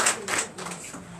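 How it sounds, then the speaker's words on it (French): Applause from a church congregation during Sunday worship in Benin, a brief burst of clapping that swells and fades in waves, fairly loud and close. "Donnez l'acclamation à Jésus."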